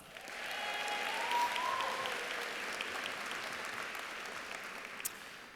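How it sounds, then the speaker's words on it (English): Audience applause at a graduation ceremony, a broad, even wash of clapping from a large crowd that holds steady throughout, with a faint tone rising briefly early on. "So please give them a round of applause"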